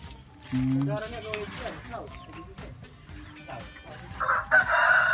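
A fighting rooster crows loudly nearby at a gamefowl loft, its call rising and breaking, while people chat casually around it and other fowl cluck faintly.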